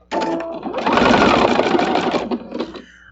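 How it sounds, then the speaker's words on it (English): A sewing machine runs a back-and-forth zigzag darning stitch across patriotic star quilt blocks, a steady close whir that starts briefly, pauses, then runs continuously before easing off near the end. "I call it a darning stitch because it goes back and forth in a zigzag."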